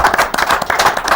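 Brief burst of audience clapping in honour of the Gareji football team from Sagarejo, a fan-league side, quick and close for just over a second.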